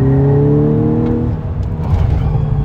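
Volkswagen Golf 6 R with four-wheel drive accelerating, a steady loud engine drone with rising harmonics held close throughout, no talk.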